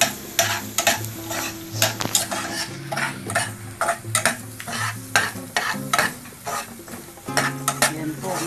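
Onions sauté in a hot pan for a beef steak dish, sizzling steadily while a utensil repeatedly stirs and scrapes against the metal, close and clear.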